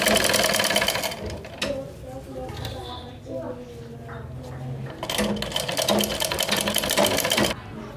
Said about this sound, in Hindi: इन दोनों को इस तरह से बराबर मिला के बिल्कुल किनार पे अपन को सिलाई कर देनी है।